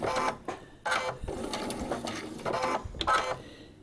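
A sewing machine stitches a paper-pieced quilt block in short bursts of rapid whirring needle clatter with brief pauses between runs, close and alone.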